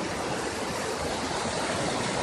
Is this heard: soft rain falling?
no